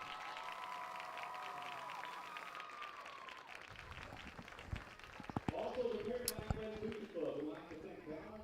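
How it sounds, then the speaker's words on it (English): Crowd at a high school football game applauding senior athletes and band members, a swelling patter of clapping that rises louder in the second half after a voice over the public address fades out. "How about a big round of applause"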